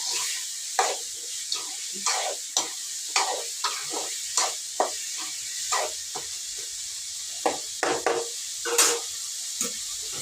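Bean curry being stirred in a pan with salt and chili powder, scraping and stirring clatters recurring every half second or so over a steady close sizzle, with no talking.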